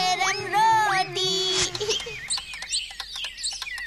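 Cartoon parrot chirping and squawking in rising and falling whistled calls, then rapid clicks and chatter, loud and close over a few seconds with some voice mixed in.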